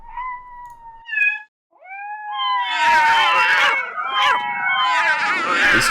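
A cartoonish cat in a cat video game meows in a rising yowl, then lets out harsh, loud hissing bursts one after another, up close and without any talk.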